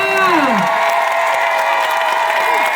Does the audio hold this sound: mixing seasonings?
no